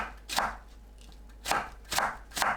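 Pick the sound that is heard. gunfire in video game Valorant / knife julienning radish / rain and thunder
knife julienning radish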